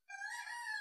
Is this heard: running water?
no